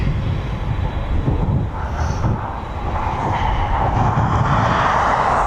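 A DHL Boeing 777 taxis at East Midlands Airport, a steady broad jet-engine roar with wind rumble that holds at an even level throughout, heard from a distance.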